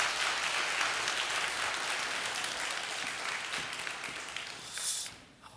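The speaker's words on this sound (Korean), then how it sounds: "힘찬 박수로 환영했으면 좋겠습니다" A church congregation applauds during a Sunday worship service to welcome a pastor, a broad, sustained wash of clapping from many hands that fades toward the end.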